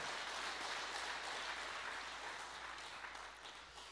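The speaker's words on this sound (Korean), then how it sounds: "다시 한번 큰 박수로 한번 격려하도록 하겠습니다." Applause from a church congregation during a Sunday afternoon service, a steady, even wash of many hands clapping that tapers slightly toward the end. It sounds somewhat distant and carries no voices.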